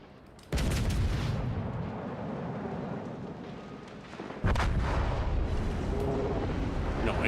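Heavy naval guns in World of Warships Legends fire in two deep booming salvos a few seconds apart. Each one rolls into a long, dense rumble that fills the background.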